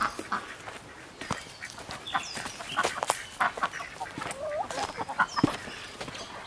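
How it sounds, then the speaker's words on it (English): Young Leghorn pullets cluck and chatter in a pen at dusk, with overlapping soft calls and occasional sharper squawks, moderately close amid outdoor rustling. "These are just the young pullets there, the leghorns."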